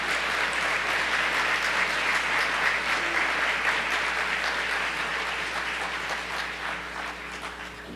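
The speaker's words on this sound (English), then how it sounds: "Please give a round of applause to Ada Agha." Audience applause for award winner Ada Agha at the Paula Gehring Award presentation, a dense, steady crowd clapping that holds loud for the full stretch and eases slightly toward the end.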